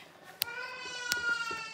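A pet cat meows indoors in a home kitchen, two short close meows followed by a longer drawn-out tonal mew, fairly quiet with faint background sounds.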